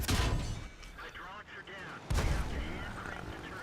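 Tank cannon shot from a Panhard EBR 75 FL 10 in a video game: a loud, sharp blast near the start with rumbling decay, a second heavy boom about two seconds later, over engine and battle noise.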